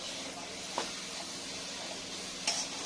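Mustard greens sautéing in a pan give a steady low sizzle, with a couple of short scraping stir strokes standing out briefly above the frying hiss.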